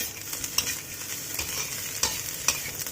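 Rice stir-frying in a hot pan, a steady sizzle with scraping stirs and a few sharp utensil clinks against the metal, close and alone.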